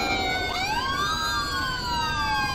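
A fire truck siren in GTA 5 wails with rising and falling electronic tones, loud and close, sweeping continuously over a low background rumble, with no voices.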